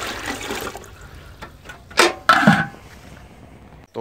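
Drinking water brought in from outside the house is poured into a container at home, heard as a few short splashing gushes close by against a quiet room.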